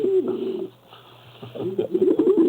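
A pigeon's cooing sound effect plays loud and close, with a couple of soft, throaty rolling coos separated by a short pause, and no talking over it.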